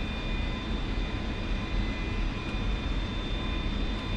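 Steady, unbroken roar of an F-86F jet engine running in DCS, broadband and constant with a faint high whine, no talk.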